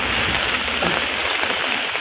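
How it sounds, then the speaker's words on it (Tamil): Rain pours hard in Chennai as Cyclone Fengal hits, a constant close wash of hissing water on surfaces with no talking over it. "இங்கே பாரு என்ன மழை அடிக்குது."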